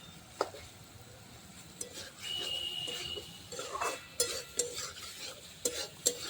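Fish curry, tilapia in a spiced gravy, being stirred in a pan with a low sizzle, irregular scraping strokes and light clinks of a utensil against the pot, fairly quiet and close.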